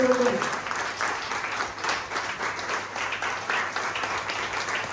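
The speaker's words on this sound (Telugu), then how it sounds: "చప్పట్లు కొడదాం మనమందరం దేవునికి" Worshippers at a Sunday church service clap together for God, a steady, moderately distant wash of applause with a short voice at the very start.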